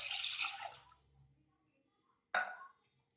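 Water is poured onto raw rice in a microwave-safe dish: a splashing pour for about a second, then a brief second splash, close and moderately loud in a quiet kitchen.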